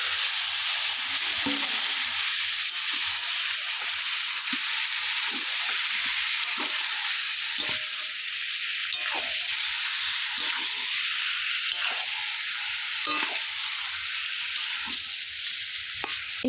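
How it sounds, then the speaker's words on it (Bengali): Marinated chicken sautés in a pan without water, a continuous close sizzle and hiss with occasional soft stirring scrapes and knocks running throughout, no voices. "চিকেনটা যে ম্যারিনেট করে রেখেছিলাম সেইটা আমি দিয়ে দিলাম"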